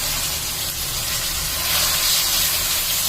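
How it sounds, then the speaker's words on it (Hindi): Chicken pieces dropped into hot oil with fried ginger and garlic in a pan for shawarma filling, giving a steady close hissing sizzle that swells louder about halfway through and continues without any talk. "देखिए अदरक लहसुन को मैंने फ्राई कर लिया है। अब चिकन डाल देंगे इसमें।"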